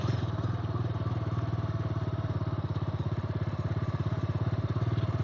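A motorcycle rides along a road on a day trip from Coimbatore toward Attappadi, its engine thumping in a fast, steady pulse close by.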